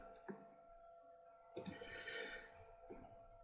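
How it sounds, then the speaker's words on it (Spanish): Computer mouse clicks selecting a table column in Word 2013: a few sharp, quiet clicks spaced apart, near and close-miked, over a low steady hum. "haciendo un clic seleccionamos la columna completa"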